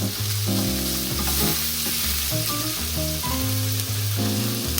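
Red onions and red pepper fry and get stirred in a pan, a bright continuous sizzle up close with stirring scrapes, while a melodic tune plays underneath.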